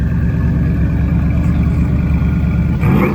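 A Toyota AE86 Corolla engine running at a drift event, loud and close: a continuous rough, throbbing rumble that rises slightly near the end, with no talk.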